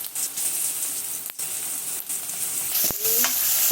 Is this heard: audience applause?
no